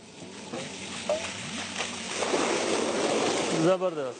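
Water gushes from a pump in a Pakistani countryside setting, a steady broadband rush building over several seconds, with voices talking over it and a low motor hum underneath.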